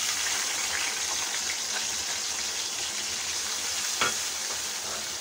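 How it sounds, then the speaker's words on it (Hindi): Ground masala frying in oil in a pan, a steady dense sizzle close by with one brief clink of a utensil near the end. "और इसे अच्छे से भून लूंगी"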